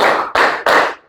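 A group of children claps together in time in a classroom, three loud, sharp group claps in an even counted rhythm, each with a short ringing decay, close and without talk.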